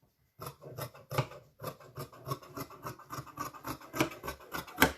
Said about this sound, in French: Je vais découper mon polaire, mais je vais quand même garder une marge